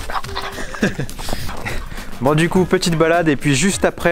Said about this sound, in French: Ah ça c'est un chien content ça.